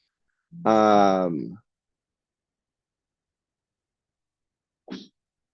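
A single loud, close sneeze with a voiced tail, followed by silence and a brief short vocal sound a few seconds later.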